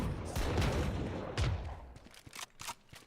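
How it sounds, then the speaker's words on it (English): Gunfire and a missile launch in the Valorant video game: a rattling burst of rapid shots up front, a heavier blast midway, then scattered sharp cracks and impacts tapering off, loud and close. "Launching missile."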